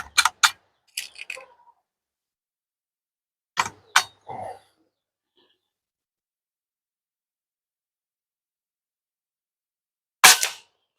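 Sharp, close shots from an AGI Falcon air rifle during an accuracy test, five distinct cracks in loose pairs and singles with quiet gaps between, the last one alone after a long pause.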